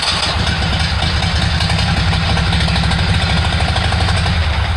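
A Kohler Command 18 hp small engine, freshly rebuilt, idles steadily after starting with no choke, giving a loud, close, even mechanical chugging that runs on unbroken.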